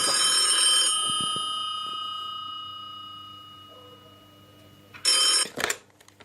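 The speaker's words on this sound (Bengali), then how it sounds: "আবার ফোনটা বেজে উঠল।" A telephone ringing as a sound effect in a Bengali audio story: a bright bell ring that rings out and decays slowly, followed by a second short burst of ringing.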